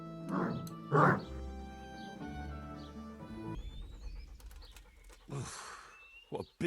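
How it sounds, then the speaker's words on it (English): In the game Kingdom Come: Deliverance, a dog gives a few loud barks and yips, then pants and whimpers nearby, with quiet game sounds between the bursts. "Have a conversation with him and see if you can mimic his bark."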